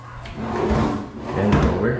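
A cabinet drawer in a newly finished small rowhouse slides open and shut, two close wooden rumbles under a person talking.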